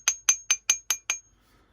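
A used, well-worn sheet metal hammer ringing against metal anvils for sheet metal work, six quick evenly spaced bright clinks close up, then quiet.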